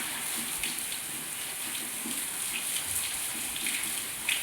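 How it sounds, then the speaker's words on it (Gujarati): Rain pours steadily outdoors, a continuous broadband hiss with scattered nearby drips and splashes, no voices present. "અત્યારે વરસાદ છે"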